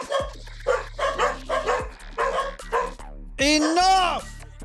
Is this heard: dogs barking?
yes